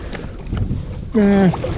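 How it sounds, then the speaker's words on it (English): Strong wind buffets the microphone on a lake during kayak bass fishing, a steady rumbling roar broken by a brief, loud tonal whine in the middle. "This wind's getting a little much."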